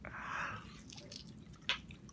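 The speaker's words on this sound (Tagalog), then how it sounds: "Ay, kagat tayo ng mataba." Close, wet chewing and biting on fatty pork chop cooked in catsup, with a soft squishy bite early on and a sharper crunchy snap near the end, no talking.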